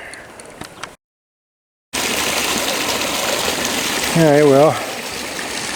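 Water gushes steadily into a shrimp pond, a close, continuous rushing flow that follows a brief spoken remark and a moment of silence, with a short tonal whine rising partway through.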